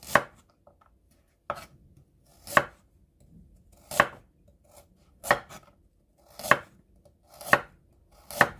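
A knife slicing carrot into flower shapes on a cutting board, with eight crisp, separate chops spaced about a second apart, close and clear against near silence.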